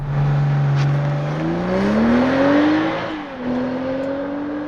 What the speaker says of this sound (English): The refreshed 23 BMW X7 XDrive 40i without launch control. Oh yeah! Brake boost.